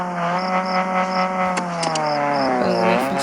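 A small car resembling a Maruti 800 idles close by, a steady engine hum with a faint rhythmic chirp and a slight rise in revs near the end.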